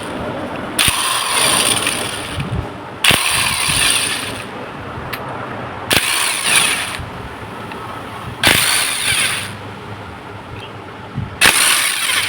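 A ratchet wrench loosening 8 mm bolts on the clutch cover of a KTM Duke 250 motorcycle, bursts of close metallic ratcheting with pauses between bolts, loud and without talk.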